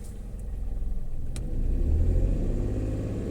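A small, low car that had sat for about two weeks revs its engine, driving out of deep snow. The engine rises from a steady idle to a louder, strained rumble, heard close.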